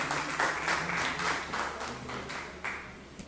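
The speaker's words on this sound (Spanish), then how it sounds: "Y les den un fuerte aplauso, por favor, apreciado público" A university audience gives researchers a standing ovation at an academic forum, a dense, steady wash of clapping from many hands that carries on evenly for a few seconds, moderately loud, with a faint murmur underneath.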